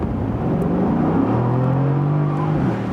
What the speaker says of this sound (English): here at 40, and when I then press the throttle